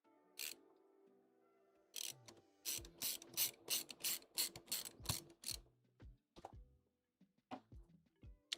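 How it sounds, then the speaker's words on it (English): Small screws driven back into a console or computer during repair, a quick run of sharp ratcheting clicks from a screwdriver in close, bursty rhythm, followed by a few scattered taps and clicks. "Let's get all of these little baby screws back in here."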